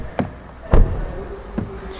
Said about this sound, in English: the sound of the door is nothing interesting,